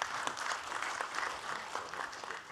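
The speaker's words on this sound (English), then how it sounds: "Big applause." Audience applause following a welcome at a University of Chicago panel on climate, food and agriculture, a steady dense patter of clapping throughout, moderately loud with no talk over it.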